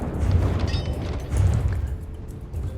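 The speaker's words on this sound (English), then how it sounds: "Cram cannon missed." Cram cannon volley from a gunship battle in From the Depths, heavy low booms and rumbling blasts swelling twice, with missile impacts in the mix, no voices.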